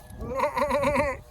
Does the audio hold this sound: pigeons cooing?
no